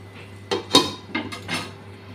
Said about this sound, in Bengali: নুন দিয়ে দিচ্ছি, এখন ঢাকা দিয়ে রাখবো